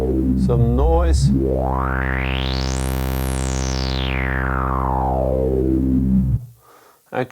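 A loud synthesizer noise sweeps steadily upward through an Erica Synths Black Polivoks VCF filter to a bright peak, then slowly back down, before cutting off abruptly.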